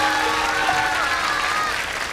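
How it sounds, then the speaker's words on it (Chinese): An audience claps for a guest speaker at a lecture event, producing dense, sustained applause from a crowd that holds at an even level throughout. "掌声送给他。"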